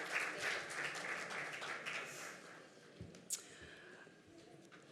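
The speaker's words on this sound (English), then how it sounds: "Let's give her an applause." An audience at a youth agripreneurship side event applauds to welcome a speaker, a faint, thinning patter of clapping that fades toward the end with a few isolated taps.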